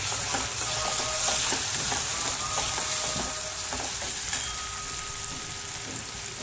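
Tomato and onion with turmeric frying in a pan make a constant close sizzle, with intermittent knocks and scrapes of stirring, slightly louder early on.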